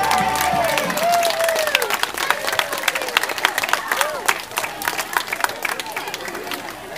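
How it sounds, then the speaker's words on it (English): Crowd of parents applauds and cheers as dancers leave after a dance performance, steady clapping with scattered whistles and shouts over general chatter, close and sustained throughout. "Give them a big round of applause as they leave."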